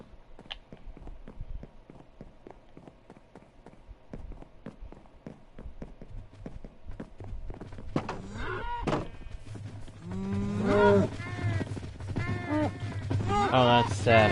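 Cows mooing in Minecraft Bedrock Edition while a player feeds the herd, with low bellowing calls repeating in the second half over game footsteps and background sounds, and a person talking throughout.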